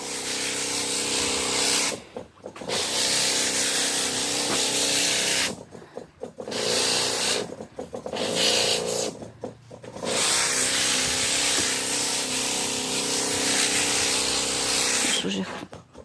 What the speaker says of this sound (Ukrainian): Це я бризкаю вже в другу теплицю.